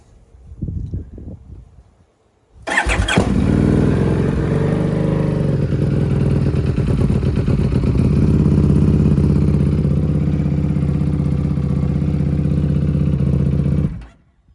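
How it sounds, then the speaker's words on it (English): An EBR 1190 RX motorcycle fitted with a Dean Adams round muffler cold-starts after a brief shuffle of faint noises, then idles steadily, loud and close, without revving, for over ten seconds before cutting off. "here she starts with a cold start"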